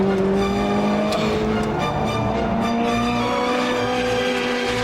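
A Ferrari F430 Scuderia engine drones loudly and steadily with sustained tonal whine, joined by faint tire noise as the car holds speed through a bend.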